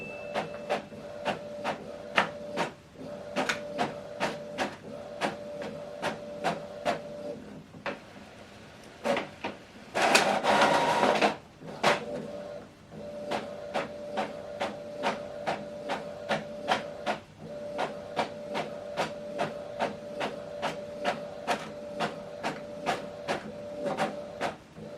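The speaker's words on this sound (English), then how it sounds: "Now this document is printing." Epson EcoTank ET-5150 inkjet printer printing an A4 document, regular rhythmic clicks and whirs of the print head carriage repeating steadily, with a louder paper-feed rush partway through, close and alone.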